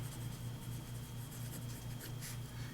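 Steady scratching of a Click Aristocrat fountain pen's broad steel nib moving across a paper pad, soft continuous strokes with slight rhythmic variations, close and quiet.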